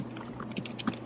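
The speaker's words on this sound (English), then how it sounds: "you're typing real loud, dude" Keys clack on a computer keyboard in a quick, uneven burst of loud taps, close to the microphone, with a low steady hum underneath and no speech.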